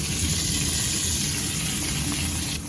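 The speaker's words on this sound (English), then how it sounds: "Now I will add some water." Water is poured into a hot pan holding fish and sauce, making a loud, steady rushing hiss that continues for a few seconds before cutting off.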